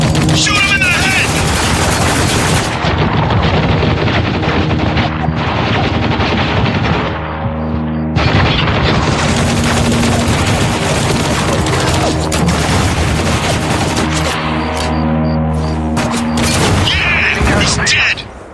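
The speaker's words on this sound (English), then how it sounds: "Shoot him in the head!" Heavy sustained gunfire from the video game Spec Ops: The Line, dense rapid bursts and booms that run almost continuously, close and loud, with shouted voices mixed into the fighting.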